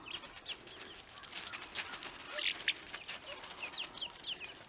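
Chickens cluck softly with a few short squawks, fairly faint and scattered, with a rooster among them.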